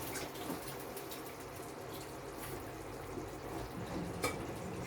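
Pasta water draining into a kitchen sink, a steady broadband rush and splash that runs continuously at moderate distance, with occasional small drips and no talk.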